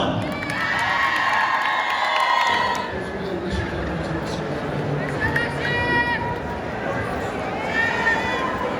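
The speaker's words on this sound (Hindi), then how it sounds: "आप सबकी भरपूर तालियों में मैं दावत देना चाहूँगा सूबाई वज़ीर खेल और सकाफत अमूर नौजवानान अब्द" A large crowd at a sports and culture ceremony in Balochistan cheers and shouts loudly and continuously, with high calls and whistling rising over a dense, steady roar of voices.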